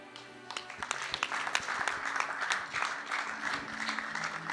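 A church congregation breaks into applause after a prayer of salvation, scattered claps building into a steady, moderately loud wash of clapping with faint voices mixed in.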